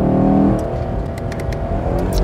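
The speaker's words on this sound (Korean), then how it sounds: "자연흡기 엔진의 그 자연스러운 그 엔진음" A Chevrolet Camaro SS with a 6.2-liter naturally aspirated engine on a race circuit, its exhaust a loud, steady low roar that holds strong throughout, with faint higher whirring on top.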